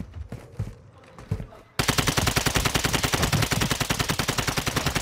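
Rapid automatic gunfire in a first-person shooter match, starting with scattered shots and then erupting into a sustained, loud, rhythmic burst of rounds with no talk over it.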